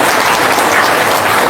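A crowd in a room bursts into loud, dense applause, a brief steady wall of clapping with no gaps.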